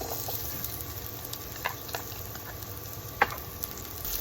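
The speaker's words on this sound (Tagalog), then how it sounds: "Gisahin lang natin ang ating luya. Sunod natin ang ating sibuyas." Ginger and onion sauté in a pan for fish sinigang, a steady close sizzle with faint crackles and a few small stirring clicks, no voices heard.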